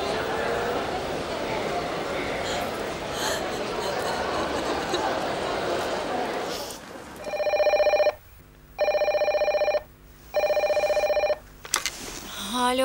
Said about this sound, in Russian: Ты чего трубку не берешь? Звоню тебе.